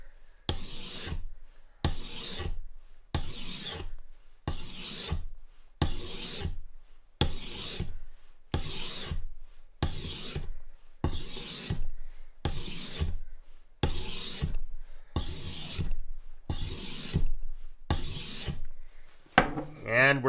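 A fleshing knife blade is drawn across a sharpening stone in fourteen even, rasping strokes, each a short scrape separated by a brief pause, close and clear without talk.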